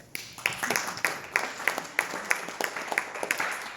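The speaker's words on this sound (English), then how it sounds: "So give yourself a round of applause for that." Scattered audience applause at a Ramayana religious discourse, a modest group clapping in uneven bursts with distinct individual claps rather than a dense roar, moderately close and fairly soft.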